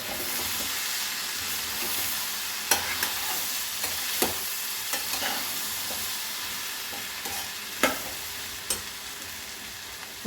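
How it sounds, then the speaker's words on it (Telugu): Kabuli chickpeas sizzle in a pan for chole masala curry, making a continuous close frying hiss dotted with occasional sharp pops and clicks. "ఇప్పుడు ఈ శనగలు వేసేసుకుందాము"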